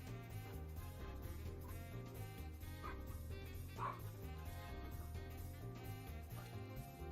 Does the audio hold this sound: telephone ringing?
no